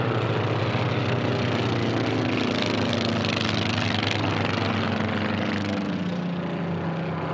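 A Formula One class racing airplane roars past a pylon at the 2018 National Championship Air Races, its loud, steady propeller-engine drone swelling as it passes close, with no talk over it.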